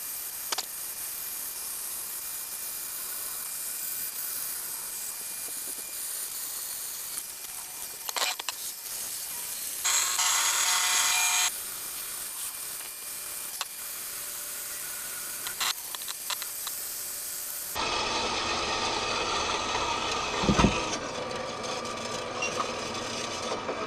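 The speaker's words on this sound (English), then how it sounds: "let's cut it along the lines," Steel is cut along marked lines while a universal joint press tool is made, a steady close rasping hiss that runs on without pause and grows harsher and louder near the end.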